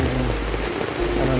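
Heavy rain from a typhoon pours down in a dense, steady hiss that fills the whole scene, with a faint voice underneath.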